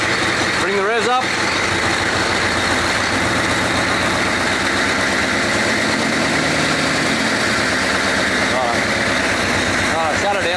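A 6.5 Chevy turbo diesel engine fitted in a GQ Patrol runs loud and steady with a deep rumbling drone, rising slightly as the revs come up, while voices are heard over it.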